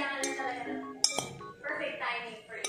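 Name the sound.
mixing tomato salad in a bowl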